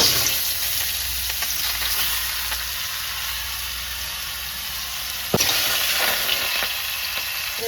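Fennel seeds and mango pieces fry in a hot pan, a steady close sizzle and hiss running throughout with a brief louder crackle and stir partway through, no voices.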